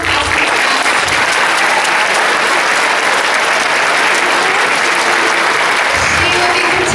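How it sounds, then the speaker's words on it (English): Audience applause at a school concert, a steady dense wash of clapping from a crowd that holds strong for the full stretch and swells slightly near the end. "So let's give a round of applause."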